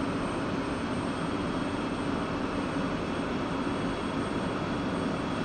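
The F-16 jet engine spools up in the DCS flight simulator as a steady, loud, broadband roar and whine that holds evenly throughout with no talking.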